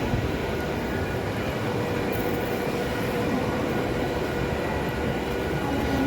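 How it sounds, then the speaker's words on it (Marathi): A train arriving at a station rumbles loudly and continuously nearby, a steady heavy roar of wheels and engine without pause. "ती आता ट्रेन येते."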